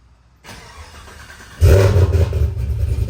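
A Chevrolet Suburban engine cranks and catches, then roars loud and close as it revs while backing out of a metal fabrication shop, a quieter rumble preceding the start.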